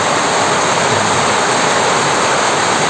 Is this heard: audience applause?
no